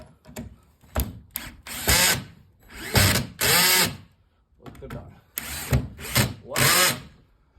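Electric drill used for private work, in short repeated bursts of whining motor noise separated by brief pauses, close and fairly loud.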